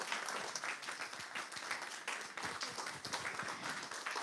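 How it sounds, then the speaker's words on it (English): Audience applause at an evening event held at a classic car venue, a continuous, even round of many hands clapping, heard at a fair distance and fairly quiet, with no voices over it. "give Lili Myers a big round of applause"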